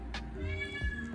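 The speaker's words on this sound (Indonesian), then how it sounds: "Ya ampun, berisik banget kucingnya." A cat meows loudly and close by, one drawn-out, harmonic-rich call with a rising and falling pitch that fills the moment, with a low background hum underneath.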